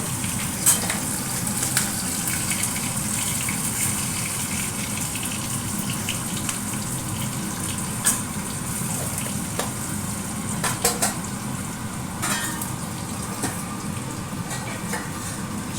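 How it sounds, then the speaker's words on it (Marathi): Continuous crackling sizzle of cumin, mustard seeds, curry leaves, green chilli and asafoetida frying in hot oil for kanda pohe, with occasional sharper pops and spits, close up and steady throughout. "फोडणी करून"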